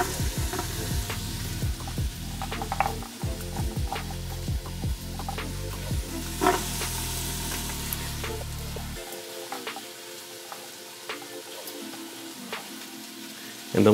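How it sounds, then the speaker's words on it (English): Carrots and celery sizzle with onions and garlic in an Instant Pot, a steady close frying crackle with stirring scrapes that softens to a quieter hiss partway through. "I'm gonna add the carrots and celery in here."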